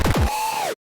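A short swelling screech with a pitch sweep fades in through a reversed reverb wash, then cuts off abruptly.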